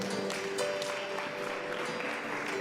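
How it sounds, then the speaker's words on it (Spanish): Church congregation applauding together, dense continuous clapping at moderate loudness with faint voices and sustained tones underneath. "denle un fuerte aplauso al Señor"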